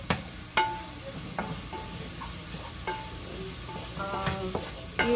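Ground beef browning in a pan for burritos, a steady low sizzle broken by several sharp scrapes and knocks of a spatula stirring the meat.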